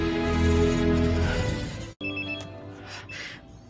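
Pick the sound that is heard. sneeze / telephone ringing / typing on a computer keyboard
telephone ringing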